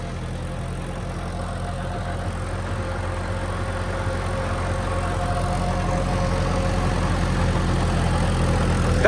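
A Kubota tractor idling near a muddy paddy field, its diesel engine holding a steady low throb that grows slightly louder over the stretch, with no talk.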